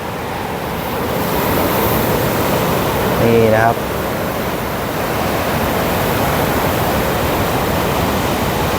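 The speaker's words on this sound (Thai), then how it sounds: "น้ำทะเล สวยๆใสๆนะครับ กับคลื่นทะเลนะครับ ที่ ใส สะอาดนะครับ" Continuous wash of sea waves at Surin Beach, Phuket, a loud, steady broadband roar of surf close by, with someone speaking briefly over it.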